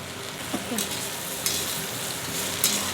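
Drumsticks coated with cumin powder fry in oil, a steady close sizzle punctuated by a few light stirring clicks of a spoon against the pan.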